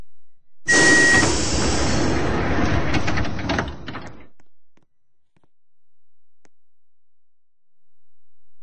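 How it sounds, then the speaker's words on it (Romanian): Metro train doors sliding shut in the Metro Mania video game, a loud rushing hiss and rattle lasting a few seconds, ending abruptly into quiet. "Atenție, se închid ușile."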